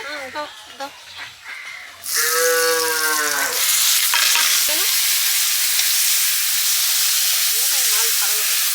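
Chili powder, cumin powder and salt hit hot oil in a pan while goat-head masala is being cooked, bursting into a loud, steady sizzle after someone speaks briefly over it.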